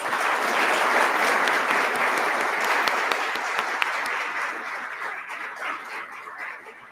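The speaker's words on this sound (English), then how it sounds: "Let's give them all a round of applause." A room of people applauds for a group of regional mayors and their host at a civic event, dense steady clapping that holds strong for several seconds and then slowly thins and fades.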